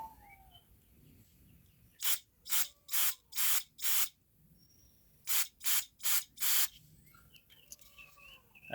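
Carburetor cleaner sprays through the ports of Ferguson TO20 tractor carburetor parts in two sets of four short hissing bursts with even spacing and a pause between the sets, close and clear over a quiet background.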